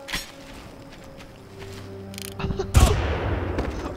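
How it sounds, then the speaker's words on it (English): A single loud gunshot from the first-person shooter Far Cry, cracking out near the end after a quiet stretch with faint ambient tones, then trailing off into a decaying echo. "Oh, that was a perfect shot."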